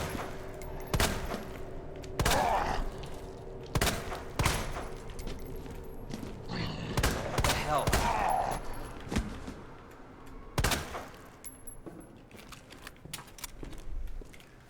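Handgun shots ring out in Resident Evil 2, a dozen or so sharp, loud cracks fired in irregular bursts, some spaced apart and some in quick pairs, over low game ambience.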